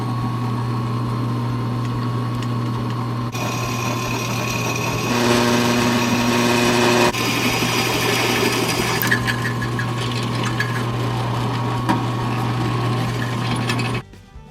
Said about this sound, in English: we're going to drill a hole right here